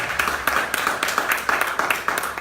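Audience applause at a trad music festival launch in Trim, a dense, fairly loud patter of clapping with rhythmic surges, heard alone without voices.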